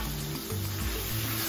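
Masala sizzling steadily as it cooks in a pan for a spinach and soya nuggets dish, a continuous close hiss with low bubbling underneath and no voices.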